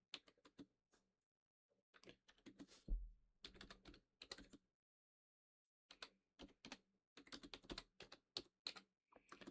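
Bursts of quick keystrokes on a computer keyboard, close and fairly quiet, separated by short pauses.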